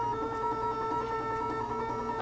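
A computerized quilting machine runs a slow, continuous crosshatch stitch line, a steady mechanical hum with a layered whine and fine rapid ticking, even and unbroken at close range with no voices.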